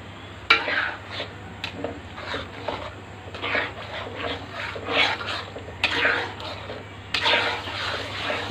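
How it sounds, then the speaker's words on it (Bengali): A spoon scrapes and knocks against a pot while garlic and onion paste is stirred and sautéed for a beef roast masala, giving irregular metallic clatters and scrapes over a low steady hum. "আর এই মশলাটাকে আপনারা বেশি করে ভালো করে কষিয়ে নেবেন"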